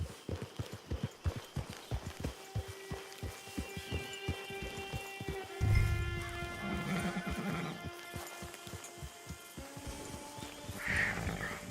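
Horse in Red Dead Redemption 2 whinnies over a steady run of hoof clip-clops, the hooves slowing and stopping, then a second neigh near the end, with no talk.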